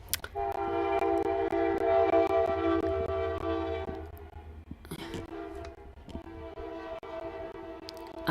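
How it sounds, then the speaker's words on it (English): A train rolls past with a long, steady horn blast for about four seconds, followed by fainter rail rumble and clatter, heard at a moderate distance behind a quiet room. "that's a train."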